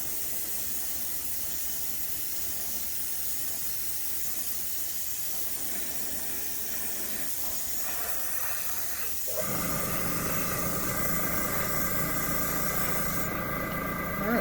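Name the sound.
airbrush spraying satin black paint on model car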